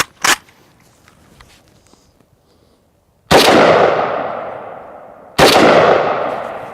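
An AK rifle fires 7.62x39 FMJ rounds at an AR500 steel body armor plate: one faint distant pop, then two loud, sharp cracks a couple of seconds apart, each with a long ringing decay.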